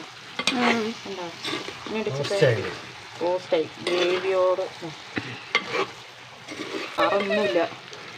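Curry frying in a pan is stirred with a utensil, the scraping and sizzle running under nearly continuous talk from a voice close by.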